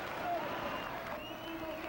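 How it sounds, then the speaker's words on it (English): A crowd cheering and applauding at the Paris–Roubaix cycling race finish in 1999: faint, distant and rising, under a low murmur of voices. "you can certainly hear the crowd now rising to the occasion"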